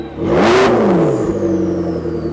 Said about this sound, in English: Give it a rev, Jimmy.